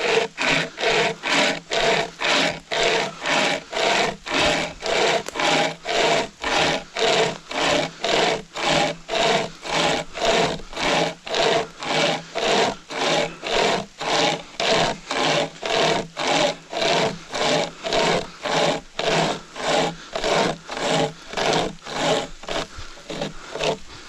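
Pocket chainsaw, a hand-pulled chain, cutting through wood in long, regular back-and-forth strokes, each pull a rasping burst; steady rhythm of about forty strokes, close and alone.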